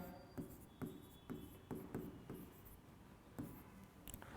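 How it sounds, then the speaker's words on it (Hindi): Chalk or marker strokes on a board during a maths lesson on averages, a series of short rhythmic scraping taps close by, with no voices. "ये लिख देंगे यहाँ पे"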